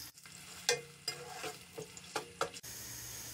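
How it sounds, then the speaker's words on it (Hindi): Roughly cut onions frying on high heat for a degi beef yakhni biryani give a low sizzle broken by several sharp spoon clinks and scrapes against the pot, then the sizzle continues alone. "प्याज को हम गोल्डन ब्राउन कर लेंगे।"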